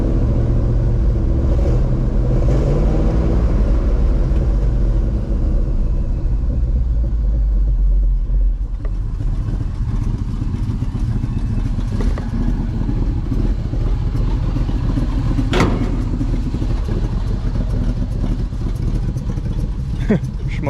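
A 1964 Chevy grain truck's old engine idles after starting on stale gas, a loud continuous low rumble with uneven clatter, running steadily close by while someone talks over it.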